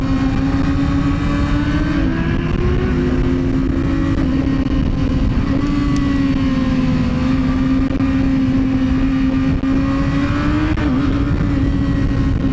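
A motor engine drones steadily and loudly close by on a road, holding a constant pitch with slight rises as it revs, with no voices heard.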